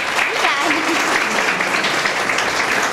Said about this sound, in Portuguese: Uma salva de palmas para a nossa cantora.